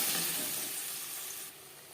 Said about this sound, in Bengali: পাঁচফোড়ন ভেজে নেওয়ার পর দিয়ে দেবো আদা, কাঁচা লঙ্কা ও টমেটো,